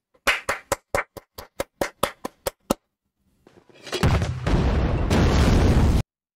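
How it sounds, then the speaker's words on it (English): A war drama scene of mortar and grenade launcher fire on a building: a quick string of about a dozen sharp, evenly spaced cracks, a short pause, then a loud, sustained rumbling blast. "I want mortars and grenade launchers on that building till it's gone."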